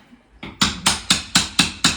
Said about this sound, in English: He seemed to just grab the hammer and a chisel